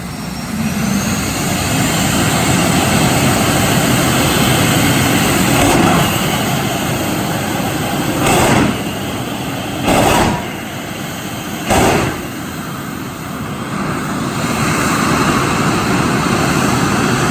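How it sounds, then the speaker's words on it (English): The Firestorm jet funny car runs at Santa Pod drag strip, a loud sustained jet-engine roar with whining tones, punctuated by three or four sharp bursts or pops. "This is the Firestorm Jet Funny Car."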